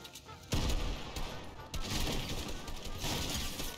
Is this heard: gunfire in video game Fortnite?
yes